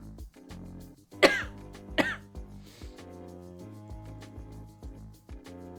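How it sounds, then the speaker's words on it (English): Two sharp, loud coughs and some throat clearing break up a quiet stretch, close to the microphone. "I feel like I'm coughing every time I talk."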